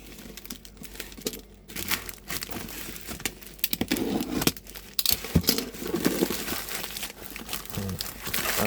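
Continuous close crinkling and crushing of plastic packaging being handled while unboxing Koss Porta Pro headband headphones, steady and fairly loud throughout.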